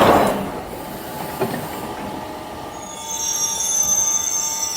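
A London Underground Jubilee line train of 1996 tube stock runs past, loud and close, its wheels squealing in a long high-pitched screech that builds toward the end over a steady rumble of the rails.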